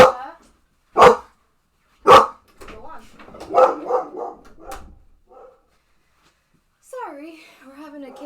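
Pet dog named Sasha barking indoors at a doorbell, three sharp, loud barks about a second apart followed by softer whining yips, with a person speaking briefly between them.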